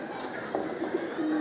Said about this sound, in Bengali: কবুতর সব নামছে, সুলতান নাইমা ডাকতেছে।